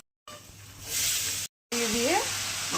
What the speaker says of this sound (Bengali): এবার একটু চীনাবাদাম দিয়ে দিলাম